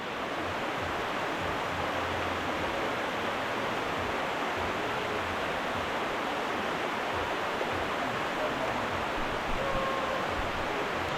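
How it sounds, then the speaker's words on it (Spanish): Waterfall in Jermuk, Armenia, a constant broadband rush of falling water, dense and unbroken, loud and close throughout with no voices. "Logramos llegar a la piedra del centro de la cascada."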